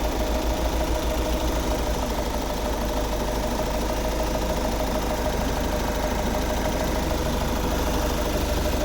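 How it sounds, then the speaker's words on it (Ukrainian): 2.0 TDI Common Rail diesel engine of a 2009 VW Tiguan 4Motion with automatic gearbox idling, a steady low clattering drone with diesel knock, heard close and continuous without talk. "2-літровий дизельний двигун"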